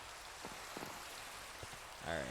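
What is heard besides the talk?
rain in Minecraft video game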